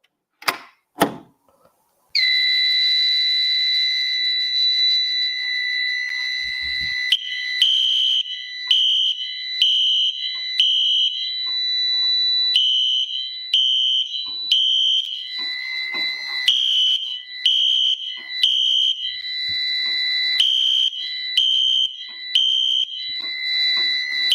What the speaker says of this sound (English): I think we're going to go ahead and start by pulling this ADT 5060-S fire alarm pull station